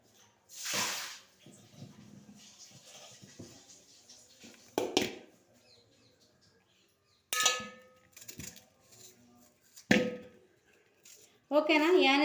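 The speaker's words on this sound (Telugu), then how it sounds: "ఈ ఆనియన్స్ అయితే కట్ చేసుకుంటున్నా" Onions for a breakfast curry are cut with a knife: a handful of sharp, separate knocks and clatters, spaced seconds apart, with quiet gaps, and a voice speaking near the end.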